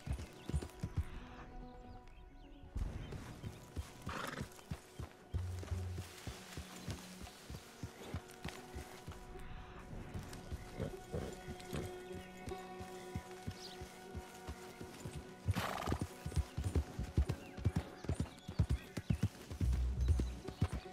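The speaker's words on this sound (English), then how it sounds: "There's a horse." Rhythmic clip-clop of hooves plods steadily throughout, with a horse's whinny and a low hum in the background, from Red Dead Redemption 2.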